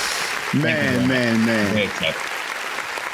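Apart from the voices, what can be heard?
studio audience round of applause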